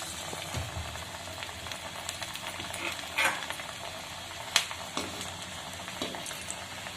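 An onion pakora is dropped into hot oil, and a soft continuous sizzle and bubbling follows, with a few sharp clicks and clinks nearby and no talking.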